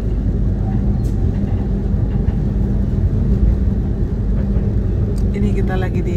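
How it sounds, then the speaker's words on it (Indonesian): Steady low rumble inside a moving Argo Wilis passenger train travelling from Bandung to Surabaya, continuous and fairly loud throughout, with a few faint clicks and rattles near the end. "Ini kita lagi di kereta Argo Wilis dari Bandung ke Surabaya."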